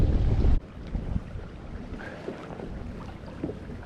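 Wind gusting around a kayak on a lake while trout fishing in December, starting with a loud buffeting rumble on the microphone that drops to a softer, uneven whoosh with light water movement.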